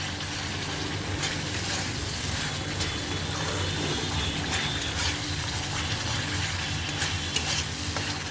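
Spice paste sautéing and being stirred in a pan for a Bengali home-style fish curry, a steady close sizzle with frying crackle and scraping stirs throughout, no voices.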